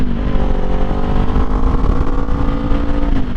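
A Kawasaki Z400 motorcycle accelerates steadily, its mid-pitched engine droning loud and close without a break, climbing slightly in pitch under continuous wind rush, with no voices.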